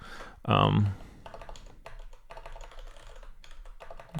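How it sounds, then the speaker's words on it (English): A computer keyboard is typed on in quick, irregular bursts of clicky keystrokes, close to the microphone, after a brief loud vocal sound. "Typing is hard when people are watching"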